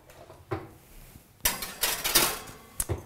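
A tray of vegan black bean burgers slides into an oven with loud metallic clanks and rattles, a few sharp knocks, then a final clatter as it settles.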